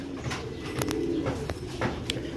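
Sialkoti silver pure-breed pigeons coo in a loft, a low steady cooing running through the whole stretch with a few brief sharper chirps and flutters close by.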